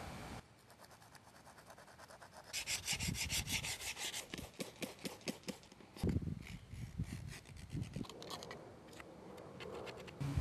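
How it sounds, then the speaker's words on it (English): Heavy growth such as moss, mold and algae is scraped off a stone headstone by hand, a quiet, close series of rhythmic rasping strokes in bursts, with short pauses between passes. "we're going to begin by removing any heavy growth, including molds, mildew,"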